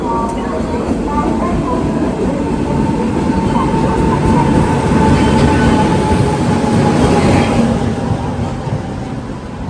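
Indian Railways Humsafar Express, an LHB-coach service hauled by diesel on the Yesvantpur–Sindhanur route, rolls steadily along the rails with a continuous loud rumble and faint rhythmic wheel clatter, no speech in the foreground.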